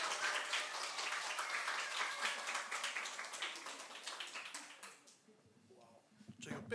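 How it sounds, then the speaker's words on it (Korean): A church congregation claps to welcome a missionary at a Sunday service, a dense round of applause that fades out after about five seconds before a voice starts. "박수로 우리 선교사님 모시도록 하겠습니다"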